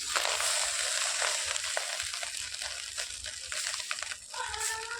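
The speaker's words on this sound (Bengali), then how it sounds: "দিয়ে নেড়ে চেড়ে নিতে হবে" A rice dish fried and stirred in a pan, giving a continuous loud sizzle with soft stirring scrapes close by, no voices.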